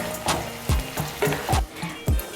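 Chicken fries with spice paste in a pan as a spoon stirs it in regular strokes, each bringing a surge of sizzle and a low scrape, about five passes in quick rhythm.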